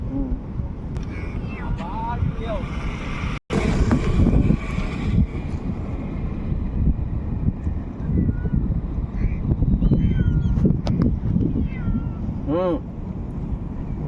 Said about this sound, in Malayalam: പൂച്ച വിളിച്ചോണ്ടിരിക്കും